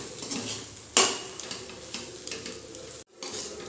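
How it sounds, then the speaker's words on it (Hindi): A spice mixture with salt and garam masala being stirred and dry-roasted in a pan, a steady soft sizzle under repeated scraping strokes, with one sharp utensil clink near the start and a brief pause near the end. "अब हम इन सभी चीज़ों को अच्छी तरीके से मिक्स कर लेंगे और इसे ड्राई होने तक भून लेंगे।"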